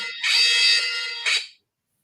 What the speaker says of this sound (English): Big alarm going off there